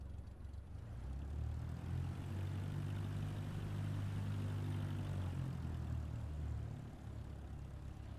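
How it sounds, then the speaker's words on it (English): Propeller airplane engine in Microsoft Flight Simulator 2024, a steady low droning hum that swells and holds for several seconds before easing slightly, heard alone. "this plane's gonna fall apart before we get it off the ground"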